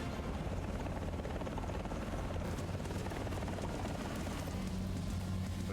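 A helicopter in the War Thunder video game gives a loud, constant rotor chop and turbine whine that fills the whole stretch, close and steady, with no talking.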